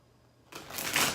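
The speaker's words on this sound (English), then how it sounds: "It's always hard to shuffle though." A tarot card deck is shuffled by hand in one short riffling burst that starts after a quiet moment and swells briefly, close and soft.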